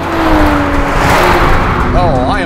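BMW M240i pulling away hard off the line in a night drag race against a Golf R and Audi S3, loud engine roar with a rising rev sweep near the end, a voice talking over it.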